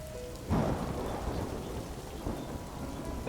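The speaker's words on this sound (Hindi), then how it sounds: "बाहर बादलों के गरजने की आवाज़ सुनाई दे रही थी।" A deep roll of thunder rumbles over the steady hiss of rain falling on a surface, with a louder crack near the start.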